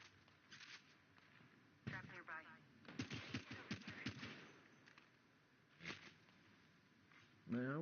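Rapid bursts of video game gunfire in a gas-trap shooter match, a dense cluster of shots in the middle with scattered single cracks around it, mixed with players talking over voice chat.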